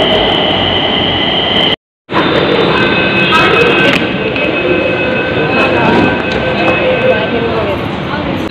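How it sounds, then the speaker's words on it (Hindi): A Nagpur metro train rumbles and hums inside the station, a loud continuous drone of wheels and motors with a brief cut partway through, while people talk over it. "ये है मेट्रो स्टेशन"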